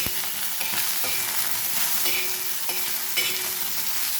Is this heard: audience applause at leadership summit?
no